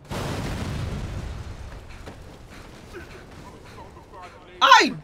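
A car's engine block explodes in the video game Dead Rising 3 with a deep, rumbling boom that fades away over several seconds. Voices talk during the blast, and a sharp burst sounds near the end.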